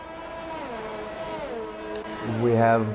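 F1 race cars in a racing video game, a pair of Renaults running side by side, engines droning with rising and falling pitch, swelling louder near the end as one revs up close, under a commentator's voice.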